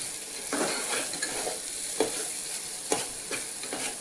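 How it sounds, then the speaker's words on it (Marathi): Garlic, ginger and coconut roast in hot oil, a steady close sizzle punctuated by several sharp scraping stirs of a spoon against the pan at irregular intervals. "म्हणजे लसूण, अद्रक, खोबरं हे थोडं याच्यात भाजलं जातं"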